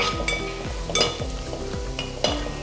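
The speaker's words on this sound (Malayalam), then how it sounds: "അതുവരെ നമുക്ക് നന്നായിട്ട് ഇളക്കി കൊടുക്കാം" Masala spice powders frying and being stirred in a pan for a pork fry, with a steady sizzle and repeated scraping strokes of a spoon against the pan, close and alone.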